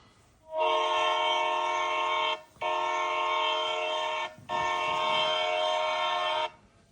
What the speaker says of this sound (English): Tooted an impatient freight train behind them